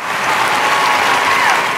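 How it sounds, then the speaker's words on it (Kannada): Studio audience applause at a Kannada TV comedy show, a steady, dense wash of clapping that stays even and fairly loud through a short burst, with no voices over it. "ಹೃತ್ಪೂರ್ವಕವಾದ ಧನ್ಯವಾದಗಳನ್ನು ನಿಮ್ಮ ಚಪ್ಪಾಳೆ ನಡುವೆ ಕೊಡ್ತಾ ಇದ್ದೀನಿ"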